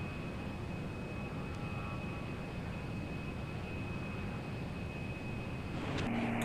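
In the Lock On flight game, the aircraft engine of an Avenger-cannon attack jet keeps up a soft, steady whooshing hum that holds even as the throttle comes back, with a thin constant whine and a brief swell near the end.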